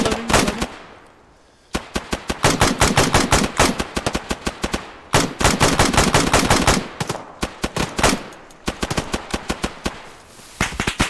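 Automatic weapon fire in ArmA 3 during a Humvee ambush, rapid loud bursts of gunshots in long sustained volleys with short pauses between strings, close and dominant throughout.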